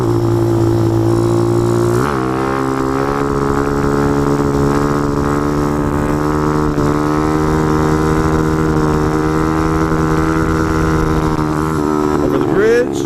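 A motorcycle engine drones steadily on the ride home, loud and close with a constant tone, rising briefly as it shifts.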